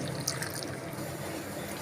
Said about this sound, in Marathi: ह्याच्यामध्ये मी एक ग्लास पाणी ओतत आहे